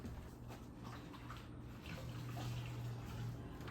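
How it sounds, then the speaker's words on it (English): Hands are washed under a running kitchen tap, with a steady, soft rush of water and faint splashing that rises slightly toward the end. "Let me wash my hands."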